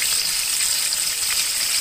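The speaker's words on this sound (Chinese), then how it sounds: "差不多每个虾正反面各煎炸30秒钟左右，总共是1分钟。" Shrimp frying in hot oil, a steady bright sizzle with fine crackling throughout, close and continuous.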